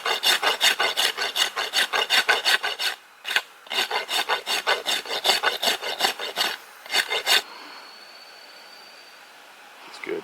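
A hand rasp rubs back and forth on the bamboo handle of a deflex recurve bow, making dense rhythmic scraping strokes in bursts with two brief pauses. It stops near the end, leaving faint background hiss.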